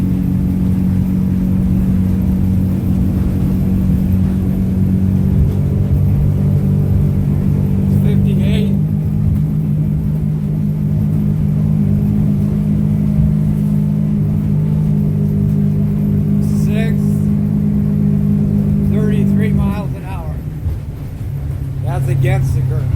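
A Hewes Searunner boat engine revving toward 6,000 RPM, a loud, steady droning hum that holds for most of the stretch, then drops off near the end, with someone talking over it.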